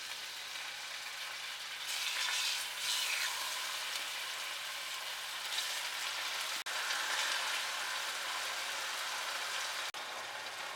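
Beef steaks sizzle in hot oil in a cooking pot, a steady close crackling hiss that swells and carries on without pause.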